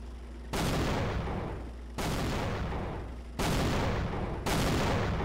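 Gunfire in Garry's Mod comes in four loud, rapid bursts, each lasting about a second and trailing off before the next volley begins.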